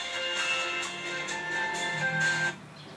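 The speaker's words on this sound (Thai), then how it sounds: "แล้วเดี๋ยวจะนี่เสียงมือถือดังนะครับ" A synthetic electronic ringtone sounds steadily for a couple of seconds, bright and tonal, then cuts off abruptly.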